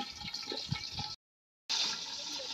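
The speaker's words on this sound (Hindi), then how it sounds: "उपर आवाज़ बहुत है मिर्चा की, क्योंकि यह है ना मिर्चा पटाके मार दियाँ" Green chillies sizzle and crackle loudly in hot oil in a covered wok, a dense spitting hiss broken by a brief sudden silence before resuming at full strength.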